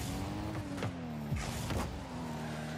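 A race car driven in a video game replay, a steady engine drone with gear-like pitch shifts and a couple of brief whooshing sweeps, constant and moderately loud throughout.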